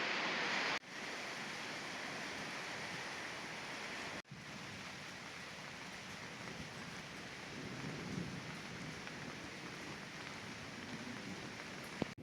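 Steady rain pours down continuously in a broad hiss amid mist on Mundanmala hill, with a couple of abrupt clicks breaking the sound.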